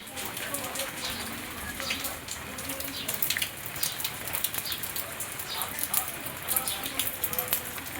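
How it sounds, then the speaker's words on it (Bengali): Light rain patters steadily, a soft continuous hiss of fine drops with no other sound standing out. "এই যে বৃষ্টি পড়ছে এখন বুঝতে পারছো কিনা জানি না ঝিরি ঝিরি বৃষ্টি পড়ছে"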